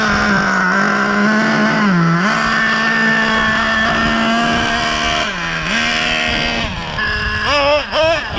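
Traxxas Revo nitro RC truck engine screaming at high revs with a two-speed transmission, holding a steady whine that dips briefly as it shifts and bogs, then surges and wavers near the end.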